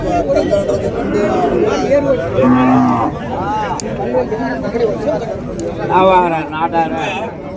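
Native heifers at a busy cattle market moo repeatedly in drawn-out calls amid a crowd's steady chatter and talking voices nearby, with other cattle lowing further off.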